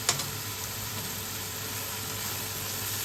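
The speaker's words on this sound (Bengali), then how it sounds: "এবার এটাকে আমরা ভালোভাবে কষাবো।" Spice paste with turmeric and salt sautés in a pan, giving a steady, quiet sizzle with faint frying crackle and a brief stir scrape at the start.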